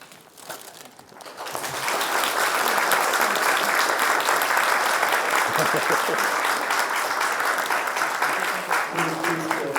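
An audience at a UCL Buddhist Society talk applauds as a token of appreciation is presented, the clapping building after a quiet start into a dense, sustained wash with a few voices mixed in.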